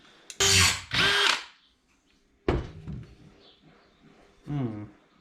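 Short bursts of a power drill whirring close by as it drills out a screw on a 1951 Chevy grille, a few separate pulls on the trigger with quiet gaps and a thunk in between.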